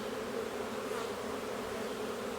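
Honey bees swarming around hives hum in a steady, dense drone that stays even and fairly loud throughout, with no voices.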